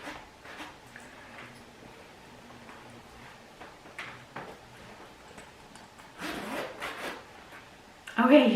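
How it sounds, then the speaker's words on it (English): Quiet, intermittent zipper rasps and fabric rubbing as a jacket is zipped in short tugs, ending with a louder, brisk pull. "It is zipping. I just have to get the zipper over."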